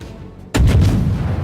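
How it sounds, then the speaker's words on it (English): Warship guns in the World of Warships naval battle game, from a Gremyashchy destroyer match: one sudden loud booming salvo after a quiet half second, with a rumbling decay that carries on to the end. "Just within range, get an initial fire off at him."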